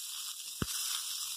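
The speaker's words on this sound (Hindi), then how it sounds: "बस 30 सेकंड के करीब ही इसे हमने सॉटे करना है" Onions sautéing in a pan with black pepper, red chili flakes, salt, Chinese salt and chaat masala give a steady, soft sizzling hiss, broken once by a brief sharp click.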